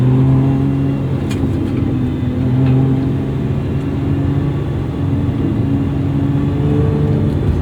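Lotus Emira sports car being driven, a loud continuous engine drone heard from inside the cabin, with tones gently rising and falling as the throttle changes.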